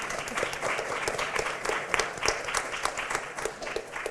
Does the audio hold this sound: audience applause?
yes